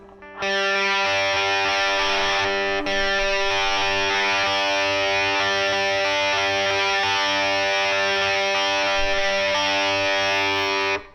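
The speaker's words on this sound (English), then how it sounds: "the electric kind of picks up with some distortion there" A heavily distorted electric guitar plays a sustained, buzzing chord pattern from a song, loud and continuous with no talking.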